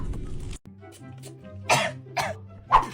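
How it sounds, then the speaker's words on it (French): A girl coughs three times, short and husky, spaced about half a second apart, close by, with a low steady background hum. "Tu tousses, ma chérie?"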